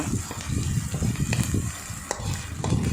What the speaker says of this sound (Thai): เจียวพริกเครื่องแกงให้หอมก่อนนะคะ